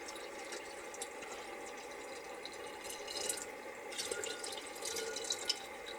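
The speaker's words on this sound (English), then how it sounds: "the first thing I'm going to do is just put some water in there to get things going" Plain cold water poured into chicken feed, a quiet trickling and dripping with soft splashes that build slightly toward the end, close by and without speech.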